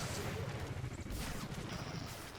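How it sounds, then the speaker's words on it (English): Pulse cannon firing in the Star Wars: The Old Republic video game, a dense, steady barrage of rapid blasts that holds at a constant level throughout, with no talking over it. "Let's rejuvenate our cells here and see what we can do with pulse cannon."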